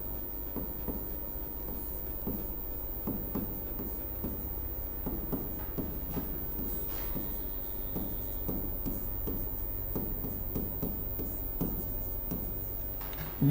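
Steady scratching of a pen or chalk writing by a teacher during a Hindi lesson, with rhythmic strokes and short taps, close and continuous with faint background hum.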